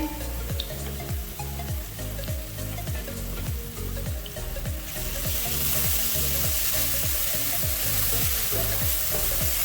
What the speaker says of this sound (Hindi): एक से 2 मिनट तक फ्राई करेंगे।